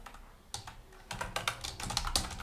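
Fingers type on a laptop keyboard in a quick, uneven burst of close, crisp key clicks that grows busier toward the end, with no voices.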